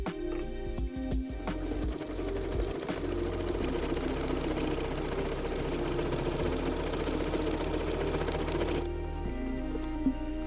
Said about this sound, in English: before I put the foot down, and we're going to make a buttonhole